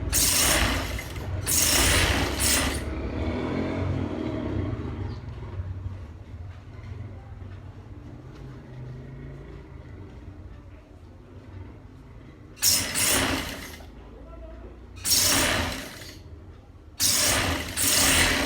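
A sewing machine stitches a bra cup in bursts, with loud broadband runs at the start and again near the end separated by a quieter stretch of low motor hum and handling noise; close and fairly loud.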